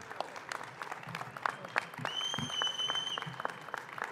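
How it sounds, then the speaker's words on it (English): A crowd at the 2023 American Legion band competition in New Orleans gives a quiet round of applause, with scattered claps and a brief whistle partway through. "Another round of applause for both bands."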